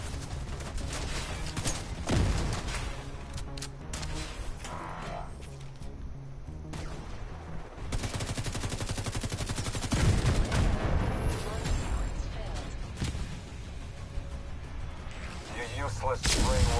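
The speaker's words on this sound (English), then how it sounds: "Damn, I got hit by an artillery turret." An enemy artillery turret in the video game The Division 2 fires repeatedly, loud booming blasts and crackling impacts layered over game music and effects, with a player's voice talking at times.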